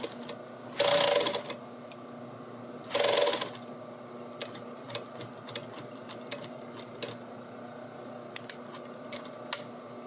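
Two short bursts of a sewing machine stitching jeans, each about half a second, close and fairly loud, with quiet ticking and shuffling of handling noise between them.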